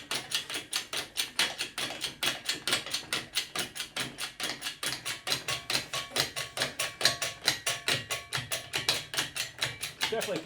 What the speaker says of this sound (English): Takes a lot of pumps to get this guy up.